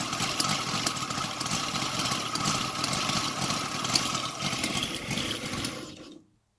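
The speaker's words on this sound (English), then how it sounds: "I'm super amazed about this engine, how beautiful it's running." A Sidel 7-cylinder engine, converted to CDI ignition and gasoline, idles steadily nearby with a rapid, even mechanical chatter before cutting off abruptly near the end.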